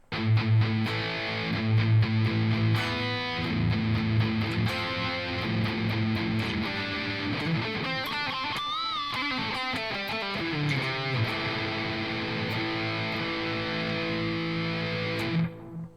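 A heavily distorted Mitchell MS450 electric guitar on its full-humbucker bridge pickup plays loud, gritty chords and riffs with a bending passage midway, sustaining continuously before cutting off abruptly.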